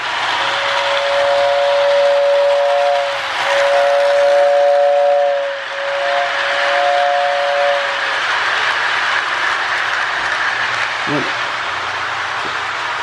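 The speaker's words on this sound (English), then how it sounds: "And we'll test the whistle." A Lionel 671 model train's whistle tender blows three sustained whistle notes in a row, loud and close, with a light mechanical hum and a click afterward.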